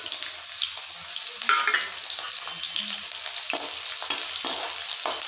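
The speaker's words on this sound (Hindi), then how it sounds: "देखिए अब लहसुन और मिर्ची हल्का सा भून गया है" Garlic and green chillies frying in hot oil in a kadai, a steady close sizzle with occasional stirring scrapes and crackles, heard alone without talk.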